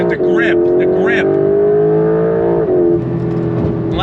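A 2025 Porsche 911 Carrera GTS engine under throttle gives a loud, sustained drone that holds steady, then dips and settles, heard from inside the car while a person talks over it.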